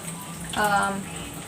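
Tap water runs steadily into a sink while hands are washed, swelling into a louder gush in the middle and then easing back, with faint background murmur throughout.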